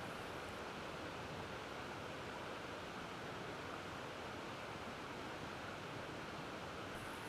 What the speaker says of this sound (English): let's just notice the water flowing